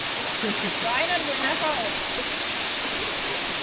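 Steady rushing water of a waterfall in Tobago fills the clip, a constant broadband roar of falling water, with a faint voice briefly audible beneath it.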